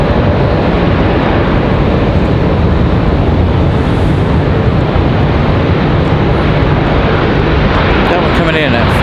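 An American Airlines Airbus A321 jet at Raleigh-Durham airport gives off a loud, continuous engine roar that fills the whole span at close range, with talking mixed in underneath.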